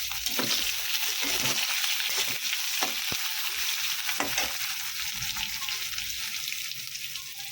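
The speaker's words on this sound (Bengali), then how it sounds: "আর দিয়ে দিলাম পেঁয়াজ" Onion sizzling steadily in a hot pan, a dense continuous hiss broken by occasional scraping stirs, close and fairly loud throughout, with no talking.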